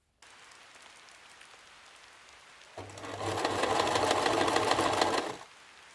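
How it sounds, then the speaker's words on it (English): Sewing machine stitching the second row of a T-shirt hem, with quiet handling before it starts a close, steady whirring run of about three seconds that then stops. "For the second row of stitching, I am using the pressure foot's left side as a guide from the first row of stitches."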